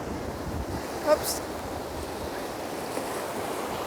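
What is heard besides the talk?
strong wind by the sea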